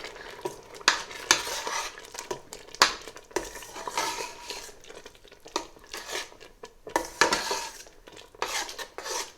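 A spoon mixing coriander powder into cooking yellow split moong lentils in a metal pot, with repeated scraping and clinking strokes against the pot, close and moderately loud, under a soft simmer.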